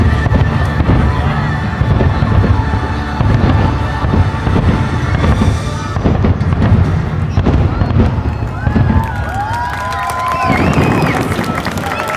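Fireworks bursting in front of Gasparilla Island Grill at the Grand Floridian resort, a dense continuous crackle and thump under a steady crowd murmur, with piped music and a few high whistling tones near the end.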